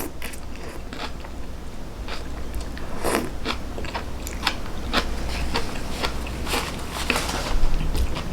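Crisp crunching bites and chewing of raw bean sprouts in a Sichuan noodle soup, a series of sharp irregular crunches close to the mic with no talking.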